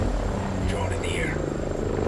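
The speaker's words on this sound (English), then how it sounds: "Chopper overhead." A helicopter passes overhead in Ghost Recon Breakpoint, its steady rotor drone low and constant, with faint higher engine whine and some voice-like sounds in the mix.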